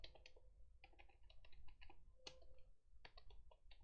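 Computer keyboard keys pressed in quick irregular bursts of clicks, close and fairly quiet, with short pauses between runs of typing.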